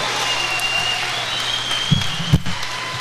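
A crowd applauds after a unanimous decision at a Scotland versus Ireland amateur boxing dual international, a continuous wash of clapping with a couple of louder thumps near the end.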